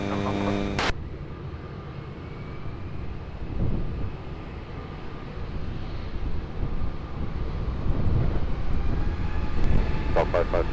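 An airplane taking off from runway 20 at Lisbon Airport gives a broad, rumbling engine roar that builds slowly toward the end, with brief radio-like sounds at the start and a voice partly heard.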